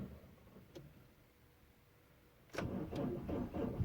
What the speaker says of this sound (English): So if I was to go and try and start this car,